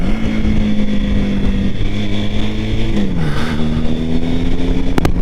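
A motorcycle engine drones steadily at close range, its pitch dipping and settling lower as it shifts into second gear, then continuing to run evenly.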